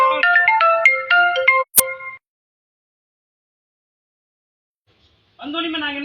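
Telephone ringtone sounding during a call to the police emergency number, a loud melodic electronic ring lasting about two seconds, then silence before the ringtone resumes near the end.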